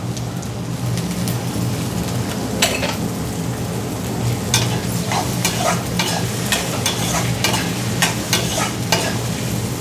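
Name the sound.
frying peas in a pan for samosa filling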